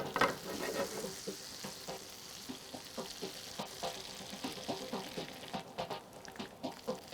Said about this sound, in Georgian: ქათმის ბურთულებს ნახევრად შევწვალ ტაფაზე, ოქროსფერი უნდა გახდეს